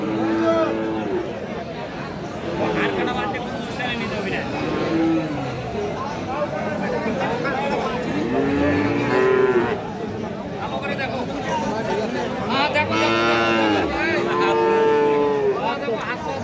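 Cattle at a bull calf market with Friesian and crossbred animals, several loud moos repeating near and overlapping, under steady crowd chatter and people talking.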